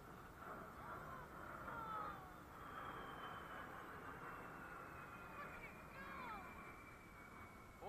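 Six-engine aircraft passing at an air show, a distant jet roar with a faint rising whine across the sky, steady under crowd murmur and chatter.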